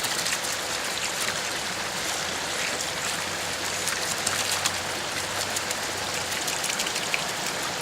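Garden well water sprays and splashes steadily over a homemade pond filter being rinsed down, a continuous hissing patter close by with no talking.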